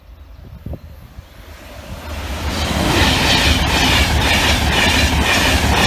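A train rolls over the Barnby Lane level crossing near Newark at slow speed, its rumble swelling from faint to loud and close, with rhythmic wheel clatter and wind noise as the cars pass.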